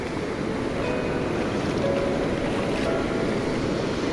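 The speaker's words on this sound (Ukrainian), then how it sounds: "до побачення Атлантичний океан це щось неймовірне. Ці хвилі, ця міць" Atlantic Ocean waves at Costa da Caparica, Portugal, rush in a constant, loud wash of surf, mixed with wind buffeting the microphone.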